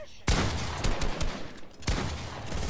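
Pump-action shotgun blasts in a video game: two loud, close shots about a second and a half apart, with gunfire and game noise continuing between and after them.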